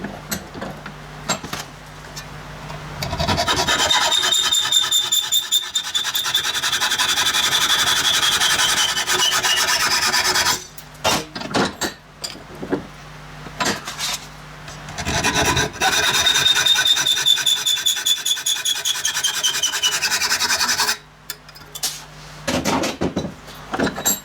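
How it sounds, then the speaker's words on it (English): A 2x36 belt sander with a 120-grit belt grinds metal lamp parts, running loud and steady in long passes that stop briefly between them, with rough rasping contact throughout. "get all these parts cleaned up using this belt. This is a 2x36 belt, 120 grit"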